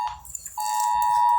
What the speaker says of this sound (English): Sorry for the beep right now.